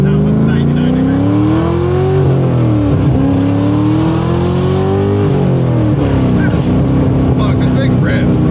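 An LS3 V8 with a supercar-style exhaust revs and settles repeatedly, deep and loud from inside the car, its pitch climbing and falling over several pulls, with crackling pops on deceleration.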